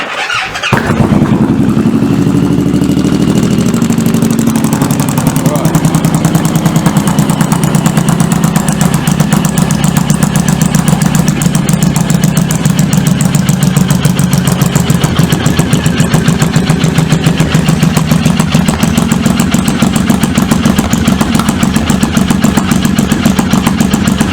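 A Suzuki Boulevard M109R motorcycle fitted with a new exhaust fires up and runs loud and close, a rough, pulsing idle that holds steady throughout with no talking.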